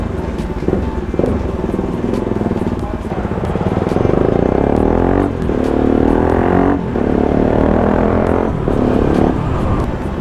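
A Bajaj Pulsar NS 200 fitted with an Akrapovič exhaust roars steadily while riding, its loud engine note rising and falling through several revs over the whole stretch, with no voices.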